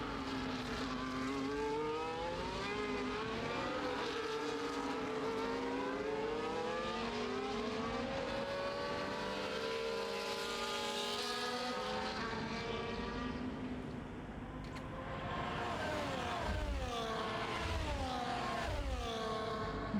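Ferrari and McLaren race cars from a Miami race screaming around the track, dense layered engine notes rising and falling in pitch as they pass, loud and continuous throughout.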